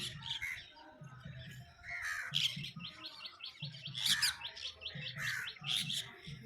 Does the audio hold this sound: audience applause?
no